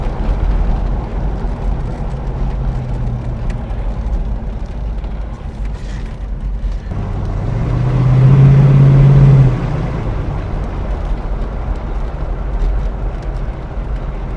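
A Mercury Cougar fitted with a Mustang exhaust kit runs with a throaty rumble, a carb not yet dialed in, idling low before a brief louder rev swells and settles back to idle.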